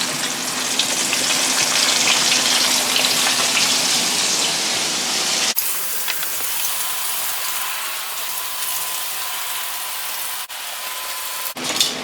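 Tilapia fillets fry in shallow hot vegetable or canola oil, a loud, dense, steady sizzle and crackle that drops back to a quieter, even hiss partway through, with brief cuts near the end.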